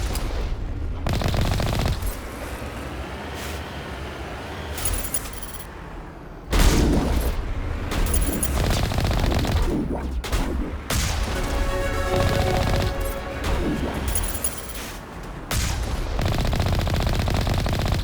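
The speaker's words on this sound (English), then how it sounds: "Open fire." Sustained gunfire in a Mass Effect firefight against hostiles including a Krogan, with rapid automatic bursts, heavy booming impacts and crashes layered densely over eighteen seconds, loud and close with no pauses.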